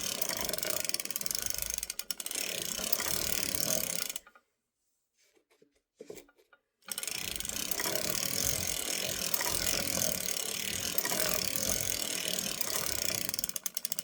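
An Erlbacher circular sock knitting machine is cranked with a dense, continuous mechanical ratcheting clatter that stops for a couple of seconds of near silence, then resumes just as steadily.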